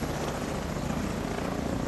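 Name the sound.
large helicopter in video game The Division 2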